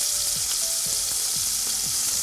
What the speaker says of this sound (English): we're only going to sear it for a few minutes